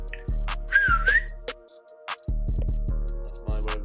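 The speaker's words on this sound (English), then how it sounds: "Give him a whistle." A person gives a short rising whistle to call a cat, clear and near, amid a series of dull thumps and knocks, with no talk.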